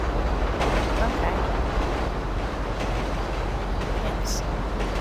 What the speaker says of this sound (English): we're on a train moving pretty fast